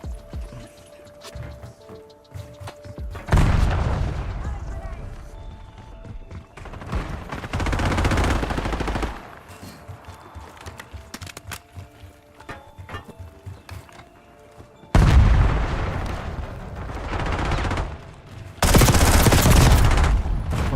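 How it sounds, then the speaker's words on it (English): Bursts of rapid gunfire erupt in a shooter video game, several loud sustained volleys lasting a few seconds each, broken by quieter stretches of mechanical clicks and handling noises. "how did I miss those shots?"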